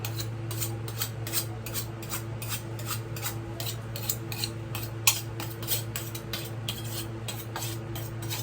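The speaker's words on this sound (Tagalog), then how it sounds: "So, hasa muna tayo ng kutsilyo mga kapatid." An old-style kitchen knife is sharpened by hand, its blade drawn again and again in a steady, even rhythm of rasping strokes against a low, constant background hum.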